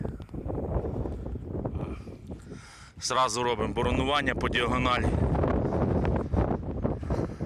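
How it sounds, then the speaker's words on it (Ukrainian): Strong wind buffets and roars against the microphone throughout in a field during corn sowing, with someone speaking over it partway through. "Вітер страшенний."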